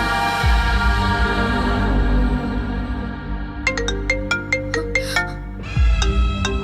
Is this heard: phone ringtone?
yes